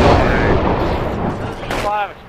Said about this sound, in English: explosions near me